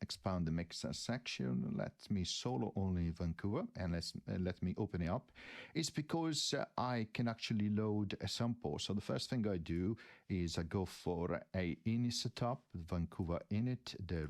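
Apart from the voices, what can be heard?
No distinct noise like a dog, phone or traffic.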